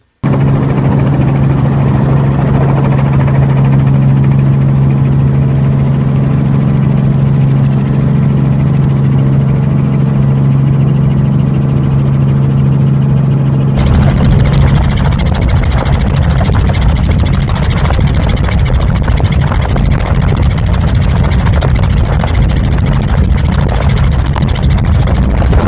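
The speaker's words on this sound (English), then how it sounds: "Nothing better than a chopper." A helicopter flies over Purnululu National Park in the Kimberley, its engine and rotors a loud, steady drone heard from inside the cabin, which turns noticeably harsher and more buzzing partway through.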